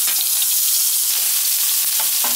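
Sliced onion frying in hot oil in a pan, a loud, close, continuous sizzle and hiss with a few sharper crackles and spits, no voices.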